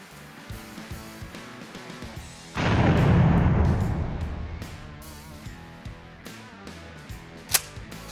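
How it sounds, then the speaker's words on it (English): A shotgun fires buckshot into a ballistic gel block, one sharp blast with a long booming decay, followed by quieter handling noises and a brief sharp snap near the end. "Let's shoot the gel and see what it does."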